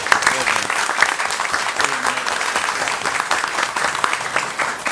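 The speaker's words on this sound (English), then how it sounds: "Let's give them another round of applause." Audience applause at a state board of education meeting, a steady wash of many hands clapping for nearly five seconds, fairly close and even in level, with faint voices mixed in.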